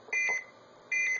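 Two short, loud electronic dual tones from an Arduino blue box sound the CCITT SS4 KP1 line signal, each a steady clean beep with a gap between.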